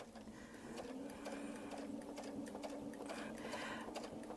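A sewing machine stitches a miniature feathered Baptist fan quilt with a fast, steady run of mechanical needle clatter. The machine is quiet and close, with no one speaking.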